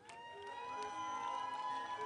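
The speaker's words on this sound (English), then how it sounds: "Round of applause for South Africa." An audience at a university graduation ceremony cheers and applauds for South Africa during a cultural dance segment. The cheering is steady with some sustained tonal noise, over a short and fairly even stretch.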